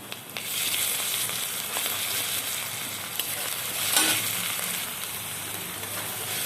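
Garlic paste frying in oil after browned onions for a chicken dish, a steady bright sizzle throughout with a few faint stirring scrapes.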